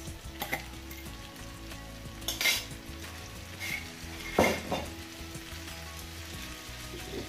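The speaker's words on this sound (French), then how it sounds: "غادي نهز لي نوي وغادي نخلطهم مع هاد الخضره واللحم" Noodles stir-fried with vegetables and meat in a pan, a steady sizzle broken by several sharp clatters and scrapes of utensils against the pan, close and without talk.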